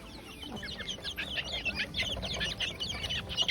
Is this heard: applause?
no